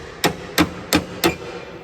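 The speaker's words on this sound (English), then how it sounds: "You just want to like hammer that down until it's sturdy." Four evenly spaced sharp metallic taps as locking plates are knocked down into the track of a 2011 Mack GU truck window regulator, close and distinct with no talking.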